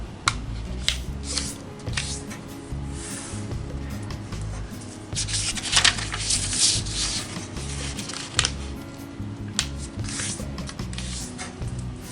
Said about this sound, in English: we're going to fold in half in both directions